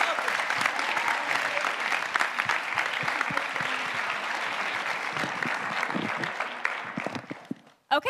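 An audience at the Mr. CCH 2022 event claps steadily in a dense, loud burst of applause that carries on for several seconds before tapering off and cutting out near the end.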